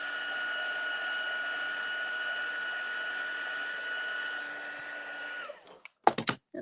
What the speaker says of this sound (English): I'm just taking my heat tool and just drying the StazOn ink so that it doesn't smudge